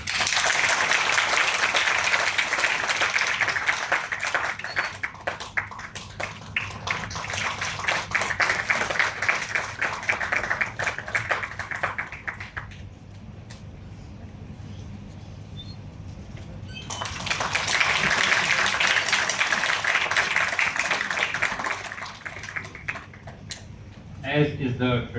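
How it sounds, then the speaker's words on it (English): Audience at a university event applauding to welcome guests: two long stretches of loud, dense clapping from a large crowd, separated by a quieter lull, with a voice heard near the end. "Please welcome our guests with a round of applause."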